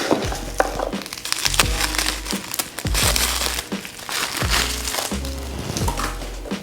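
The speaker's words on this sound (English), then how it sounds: "I'll just take them out real quick and unwrap them." Shipping packaging around mail-order plants crinkles and crackles as it is unwrapped by hand, with sharp rustles and small snaps at close range.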